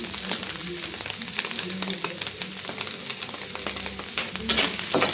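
Food frying in a kadai over high flame, a close, steady sizzle with stirring scrapes throughout and a brief louder burst near the end.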